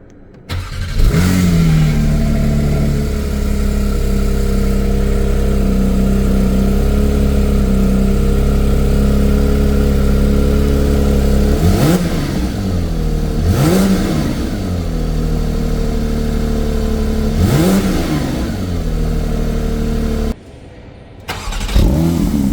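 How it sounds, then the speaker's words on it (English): A Porsche 911 GT3 Touring's engine roars loud and close, rising and falling through three sharp rev blips over a sustained drone, then cutting out briefly before catching again. "The engine sound of this beauty is raw and exciting."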